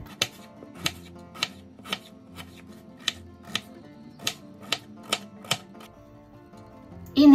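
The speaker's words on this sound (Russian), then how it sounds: "Очищаю и нарезаю на средние кубики картофель." Peeled potatoes cut into medium cubes with a kitchen knife produce about a dozen crisp board taps at an uneven, unhurried pace, close and clear, with no voices.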